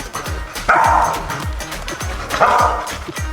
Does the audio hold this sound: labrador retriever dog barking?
yes